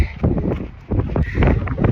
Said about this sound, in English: Winds are picking up